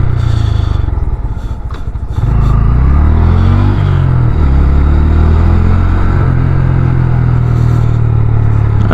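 A Honda Grom motorcycle with a quiet stealth exhaust is ridden up close, its engine dipping briefly before surging into loud, rising revs and then settling into a steady, buzzing drone with some rattling.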